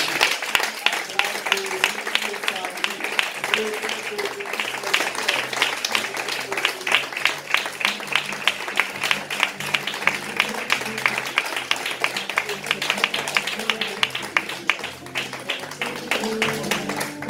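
A church congregation claps continuously to welcome an evangelist, with steady, dense applause running the whole time, mixed with scattered voices and faint background music.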